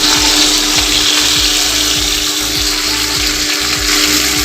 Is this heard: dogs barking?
no